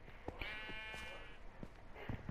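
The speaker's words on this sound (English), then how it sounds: "Shut up, you stupid sheep." Sheep in the video game Minecraft bleating, a wavering bleat near the start and a fainter one near the end, with brief game clicks and footsteps around them.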